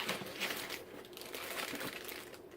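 Plastic wrapping around a book from a subscription box crinkles and crackles in a steady run of close, moderately quiet rustles, with no talking.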